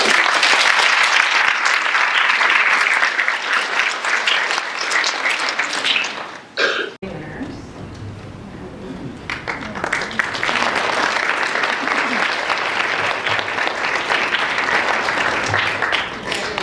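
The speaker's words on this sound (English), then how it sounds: "Can we give them another round of applause?" Applause from an audience after a student's speech at a DARE graduation, loud sustained clapping that briefly drops away midway, with coughs and murmuring, then swells again into a long steady round.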